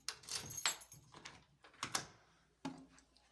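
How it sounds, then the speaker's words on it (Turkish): A key goes into the lock of a steel door: a few quiet, close metallic scrapes, clicks and jangles spread over a few seconds, with no talk. "Şimdi kapının anahtarını takıyoruz."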